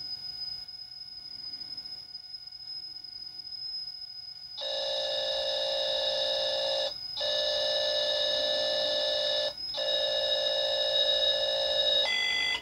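An Atari 800 computer loads the Activision game American Road Race from cassette: a faint steady pilot tone gives way to loud, shrill data tones, broken by two brief gaps, with no talking.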